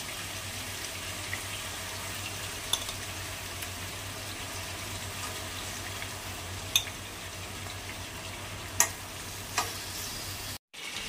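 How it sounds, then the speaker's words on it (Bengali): Chicken pieces frying over low heat, browned on both sides, giving a steady soft sizzle with a few faint clinks or stirs, heard up close with no voices. "হালকা আগুনে 2 পিঠি লাল লাল করে ভেজে নিতে হবে।"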